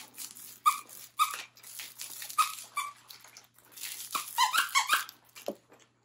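Dog chomping a plush jellyfish toy with a ball squeaker head and crinkly legs, giving a series of sharp, close squeaks in irregular bursts with brief rustling between them.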